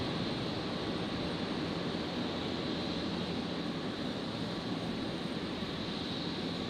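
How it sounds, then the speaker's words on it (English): An Alliance Embraer 190 jet arrives at Brisbane Airport, making a steady, moderately distant broadband rumble and hiss from its engines that holds evenly throughout, with no talking. "The Alliance Embraer 190 just arrived from Darwin here"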